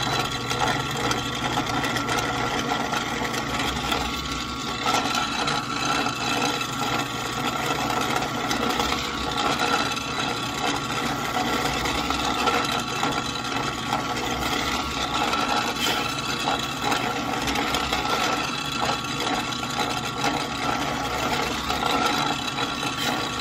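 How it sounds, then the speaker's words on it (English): A drill fitted with a 3/32 bit bores pilot holes in wood for a scroll saw project, giving a steady, continuous motor whir that runs unbroken throughout at moderate loudness. "we're going to drill all the pilot holes first in this project"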